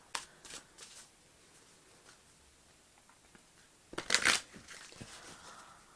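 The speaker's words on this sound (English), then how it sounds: "I'm shuffling them outside the camera just because I don't want to create a mess on top of these oracles." Tarot cards are shuffled off to the side in a few quick crisp riffles, with one louder burst near the end and soft ticks and taps between, close and quiet in an otherwise still room.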